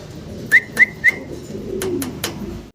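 Three quick, high, whistly calls from a fancy pigeon in a steady row, followed by a few sharp clicks over a low background hum.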